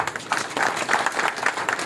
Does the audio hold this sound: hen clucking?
no